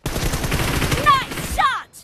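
Rapid automatic gunfire rattles on steadily in a PUBG Mobile team deathmatch, and short synthetic ricochet or hit chirps sound near the end before it cuts off.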